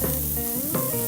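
Pork sausage sizzles on a hot breakfast griddle, a steady close crackle with brief bursts of stirring and scraping, no voices over it.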